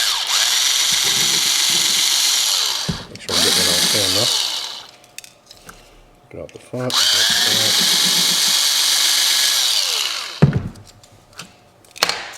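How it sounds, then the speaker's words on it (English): A power drill bores into a Hot Wheels toy car during a wheel swap, in two long, loud whirring runs separated by a pause, while someone talks between and around the bursts. "So we're going to go ahead and just drill this puppy."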